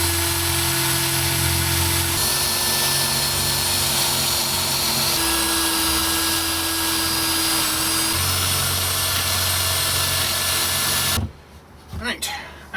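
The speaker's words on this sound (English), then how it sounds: "and drill the holes." A power drill bores holes into a wooden guitar body, a loud, steady, close whine running in several long bursts before cutting off into brief clatter and quiet.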